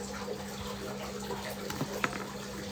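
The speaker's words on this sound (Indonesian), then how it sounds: "Suara air kolam." Quiet, continuous trickle and splash of pond water at Panjalu, a soft steady wash with a low hum underneath and a couple of faint drips or clicks.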